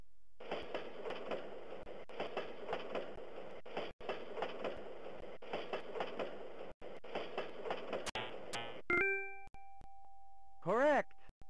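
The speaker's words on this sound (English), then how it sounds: "for passing train." A passing train in the Sega puzzle game Ichidant-R rumbles and clacks in a steady rhythm for several seconds. Bright electronic dings and rising game tones follow.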